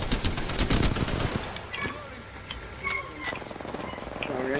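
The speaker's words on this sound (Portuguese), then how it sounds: "Tem alguém atirando aqui" Rapid bursts of automatic gunfire rattle in Apex Legends, heavy and dense at first and then trailing into scattered, more distant shots, with no one speaking.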